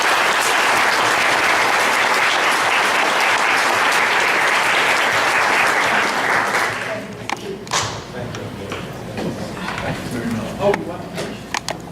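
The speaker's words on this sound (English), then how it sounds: "Let's give them a round of applause." A crowd at a mayoral candidates forum applauds loudly and steadily for several seconds, then the clapping thins out into scattered claps and murmuring.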